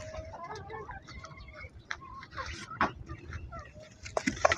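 Several Kadaknath chickens cluck and chatter nearby in scattered bursts, with a few brief louder calls toward the end over a low outdoor hum, in the morning on a poultry farm.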